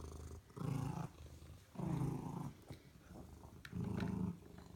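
A big, healthy cat makes low, rumbling growl-like vocal calls in three long bursts with pauses between, close and fairly quiet, with no speech.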